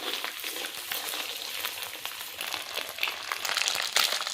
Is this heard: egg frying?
yes